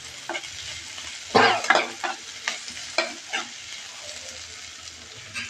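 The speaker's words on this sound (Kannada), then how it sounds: "ಇದು ಈರುಳ್ಳಿ ಫ್ರೈ ಆಗಿದೆ." Onions fry in a hot pan, a steady close sizzle broken by several sharp scraping stirs of a spatula, no voices.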